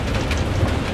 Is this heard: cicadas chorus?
no